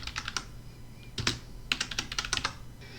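Rapid typing on a computer keyboard, close and clear, with quick clusters of key clicks broken by a brief pause mid-way, alone with no talk.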